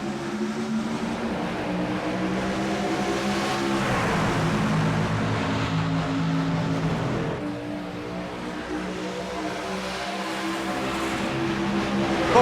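A pack of race trucks roars back up to speed on the Kansas oval at a green-flag restart, a dense, loud drone of several engines rising and shifting pitch, sustained with no pauses and no voices.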